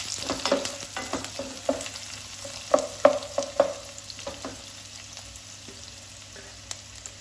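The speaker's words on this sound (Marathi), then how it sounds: "या कांद्याला चांगला गुलाबी रंग येईपर्यंत आपल्याला भाजून घ्यायचा आहे" Chopped onion and garlic sauté in a pan, browning to a pink colour for a batua dal curry, with spoon scrapes and clatter over a soft, steady sizzle and no talk.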